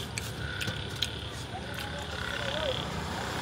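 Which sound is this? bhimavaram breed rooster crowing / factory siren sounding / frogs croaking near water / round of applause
frogs croaking near water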